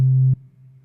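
A loud, bright high-velocity MIDI synth note sounds for about a third of a second, rich in harmonics, then drops to a quieter sustained hum.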